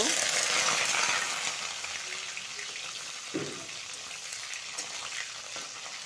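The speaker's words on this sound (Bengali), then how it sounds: "তেলটা গরম হয়ে গেছে, এখন জিরার সম্বাদ দিব। শুকা মাছটা ঢেলে দিব।" Dried fish hits hot oil with cumin, giving a soft, continuous sizzle that fades a little partway through, with a brief clink or stir near the middle and no talking.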